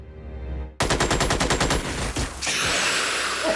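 Rapid bursts of machine-gun fire ring out in the alien-combat strategy game Xenonauts, a tight string of loud, evenly spaced shots followed by a sustained crackling volley.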